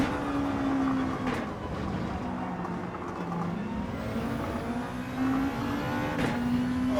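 Race car in a sim racing game with a steady droning engine that climbs in pitch as it accelerates and revs up through the corner, loud and alone with no talking.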